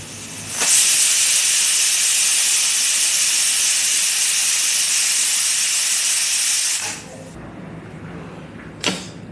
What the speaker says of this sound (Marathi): आता कुकरचं झाकण लावून आपण डाळ शिजवून घेऊ